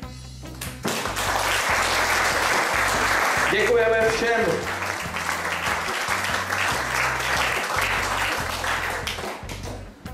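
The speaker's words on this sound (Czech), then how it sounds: "velký potlesk pro ně" At a national hot-air balloon championship gathering, crowd applause for the sponsors runs steadily under an announcer's amplified voice, with rhythmic music beating loudly underneath throughout.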